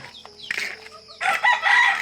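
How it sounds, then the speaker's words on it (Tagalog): Chickens being caught let out alarmed squawks and clucks with a rooster-like crow, loud and close. A louder burst of flapping and frantic calls comes near the end. "Magkuhan tayo ng mga manok ngayon"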